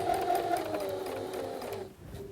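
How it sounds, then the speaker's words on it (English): A sewing machine stitching a dress skirt seam, forward and backstitching, with a close steady mechanical whir that slows and stops near the end. "I'm going to go forward one stitch and then I'm going to backstitch over my existing stitching line"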